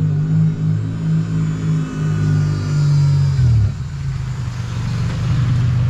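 A BMW E36 with a newly fitted engine idles and revs close by, a steady low rumble that dips and settles around the three-and-a-half-second mark, with no voices.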